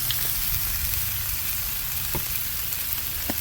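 Sloppy joe meat with barbecue sauce sizzles on a Hasty Bake Legacy griddle, a continuous close hiss of frying with a few faint stirring clicks.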